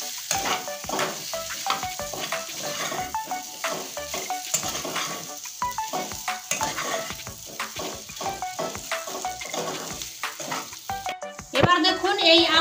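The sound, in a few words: potatoes frying and being stirred in a pan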